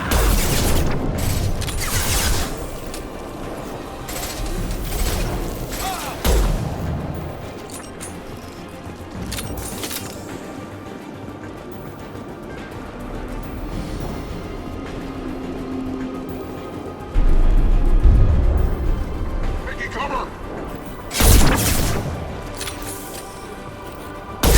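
Mass Effect 2 combat with weapon fire and explosions: scattered heavy booms and bursts of shots rise out of a low rumbling battle bed, a few loud hits spaced irregularly across the stretch.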